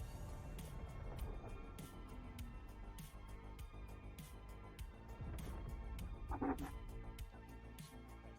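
A dog barks and whimpers in a series of short yips and whines over steady background noise, faint and somewhat distant.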